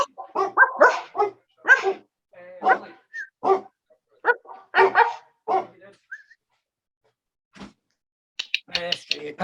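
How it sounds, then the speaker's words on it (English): A pet dog barks frantically at a delivery arriving at the house, in repeated sharp bursts and yips that mix with a person talking nearby, then a brief pause before more barking. "My dog's losing his mind."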